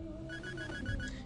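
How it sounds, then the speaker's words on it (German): An alarm clock rings in Sleeping Dogs, giving a rapid series of short, evenly spaced electronic beeps over a dense, constant game background. "Das war der Wecker."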